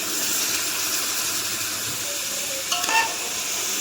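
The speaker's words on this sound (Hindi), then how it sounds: "जो हमने चिकन बॉईल किया था उसका पानी ऐड कर देंगे" Chicken stock is poured into a pot of boiled rice for sweet zarda and stirred, giving a steady bubbling, sizzling hiss with a brief scraping clatter of the spoon near the end.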